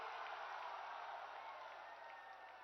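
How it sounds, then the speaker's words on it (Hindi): A crowd at a political rally in Jamui gives a steady, dense round of applause welcoming the Prime Minister, the clapping sustained and even throughout, slightly easing toward the end. "एक बार जोरदार ताली से"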